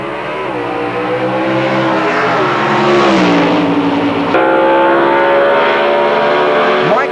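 Two drag race cars launch off the line at a racetrack before a large crowd, engines roaring loud and continuous with rising revs and a shift midway, no talk.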